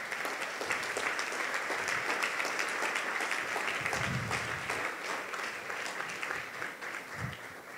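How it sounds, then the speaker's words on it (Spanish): A church congregation gives a sustained round of applause, dense clapping from many hands filling the room evenly for several seconds and tapering slightly toward the end, with no speech over it. "Si me comprende, denle un aplauso a nuestro Rey,"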